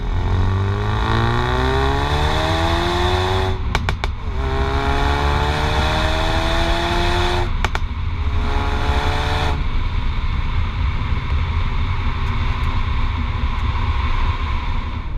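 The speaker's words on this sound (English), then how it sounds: "Get a little exhaust crackle there." A 2017 Ford Focus RS engine revs and drones loudly, with rising gear pulls and brief sharp exhaust crackles between shifts, heard from inside or close by.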